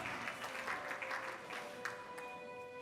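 Funeral attendees clapping for Sister Prisca, a moderate spread of hand claps from a gathered crowd, fairly quiet and continuous through the short stretch.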